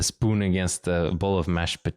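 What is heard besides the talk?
No everyday noise stands out behind the speech.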